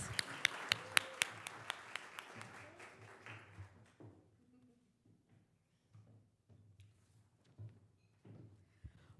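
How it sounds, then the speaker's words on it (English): Brief applause from a small audience, a few sharp claps fading out within seconds, followed by quiet knocks and shuffling. "A big round of applause."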